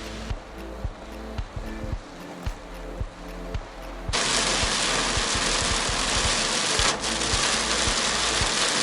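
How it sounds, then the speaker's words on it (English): Heavy rain pours down at a McDonald's in Jerudong, Brunei: a dense, steady hiss that suddenly swells louder midway and stays strong, over a low, rhythmic engine-like thumping. "Just look at the rain."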